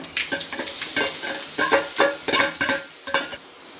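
Mustard seeds and three dried red chillies fry in oil in a pan for rasam, a close crackling sizzle broken by quick spatula scrapes and pan clinks in an uneven rhythm.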